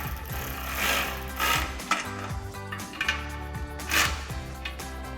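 A 15mm socket wrench tightening exhaust flange nuts on a Camaro: repeated short ratcheting bursts in a back-and-forth rhythm, close and moderately loud, with no voices.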